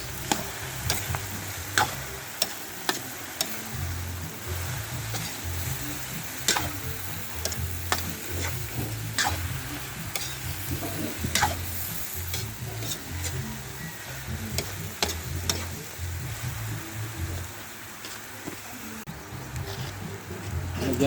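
Sponge gourd and carrots stirred in a hot pan for a coconut-milk dish give a steady soft sizzle, broken by frequent light clinks and scrapes of a utensil against the pan.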